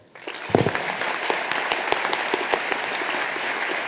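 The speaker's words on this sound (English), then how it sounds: "please join me in applauding our newly minted UCLA Medal awardee and your 2014 Commencement speaker, Dr. Gary Parker." An audience at a 2014 UCLA School of Dentistry commencement ceremony applauds the speaker, steady clapping starting abruptly and continuing with a few sharper claps standing out, no voices on top.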